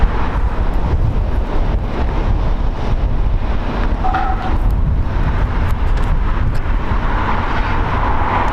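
Airbus A320 jet operated by Allegiant Air, ten years old, at LAX, giving a steady broad roar with wind buffeting on the microphone, continuous and fairly loud throughout with no voices.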